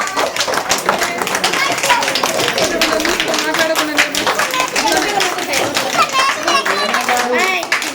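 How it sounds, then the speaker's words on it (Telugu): A crowd at a village prize-giving gathering applauds the sarpanch with sustained, dense clapping that fills the whole stretch, loud and close, while voices and children's chatter mix in underneath. "మనం మన సర్పంచ్ గారిని అభినందనగా అందరూ క్లాప్ కొట్టాలి."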